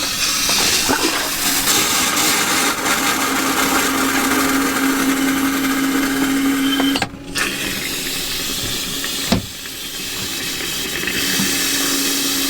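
An RV toilet flushed with its foot pedal while the lines are blown out with compressed air during winterizing, producing a loud continuous rushing hiss and gurgle with a steady tone, briefly cut off once and sputtering before resuming.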